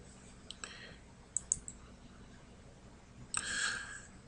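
Computer mouse clicks while entering property details in home pricing software, a few sharp, quiet taps spread out over a few seconds, close by in a quiet room.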